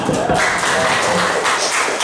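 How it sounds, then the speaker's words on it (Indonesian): A crowd applauds with dense, steady clapping that fills the room at a teachers' training presentation, a voice faintly audible beneath it. "Sekali lagi tepuk tangannya yang keras."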